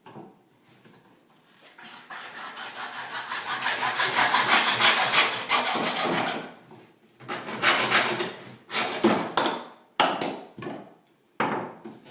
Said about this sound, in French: Avec une scie à métaux